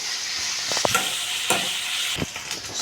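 Dried prawns frying in a pan, with a steady soft sizzle broken by several sharp scraping stir strokes, close and fairly quiet, no voices.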